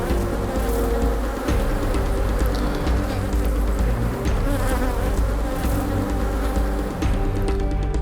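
Honey bees at a hive in St Lucia hum with a steady, dense buzz that holds for the whole stretch, close and fairly loud, with no voices.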